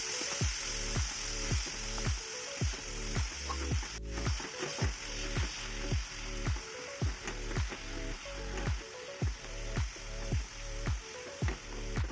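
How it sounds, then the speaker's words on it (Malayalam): Beetroot stir-fry is mixed with salt in a hot pan, a steady rhythmic scraping of a spatula repeating about twice a second over a constant sizzle, close and fairly loud, without speech. "നമ്മൾ മാറ്റി വെച്ച ബീട്രൂട്ട് അതിലേക്ക് ചേർത്ത് ഒരിത്തിരി ഉപ്പ് ചേർത്ത് നന്നായിട്ട് മിക്സ് ചെയ്യാം."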